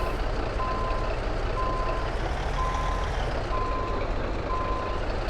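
Steady, evenly spaced reversing beeps from a truck backing a trailer in American Truck Simulator, about one per second over a constant low engine rumble, with no talking.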